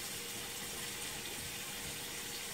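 Water runs from a tap in a house under wall repair, a steady, even rushing hiss with no talk over it.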